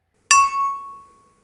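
A single bright bell ding strikes sharply and then rings out in a clean, fading tone with nothing else around it.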